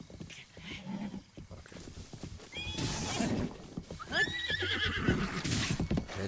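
A horse in The Legend of Zelda: Breath of the Wild whinnies twice in shrill, wavering bursts, with hoof clatter and a busy background around the calls.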